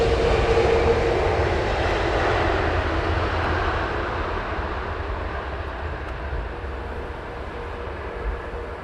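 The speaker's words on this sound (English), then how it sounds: "Virgin 330. Civilian version of the RAF Voyager, refueling aircraft out of Bryce Norton." A Virgin Airbus A330 airliner arriving on Heathrow runway 27R, a broad, steady jet roar that gradually fades as the aircraft passes, fairly loud and continuous throughout with no voices.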